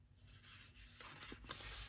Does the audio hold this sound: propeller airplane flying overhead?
no